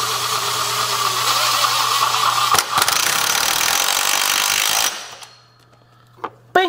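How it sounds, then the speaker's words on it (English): An impact wrench whirs loudly and steadily for about five seconds on the crank pulley bolt of a 50-year-old mower, then stops, leaving a faint hum and a few clicks. "Using my lovely little impact here, just gonna slowly kind of find out where the bolt's at on the crank"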